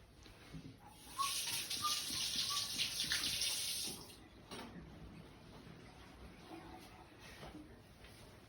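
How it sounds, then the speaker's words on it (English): Tap water runs into a sink for hand washing, a steady broadband rush lasting about three seconds before stopping, followed by quieter clatter and small handling noises. "I've just been to wash my hands"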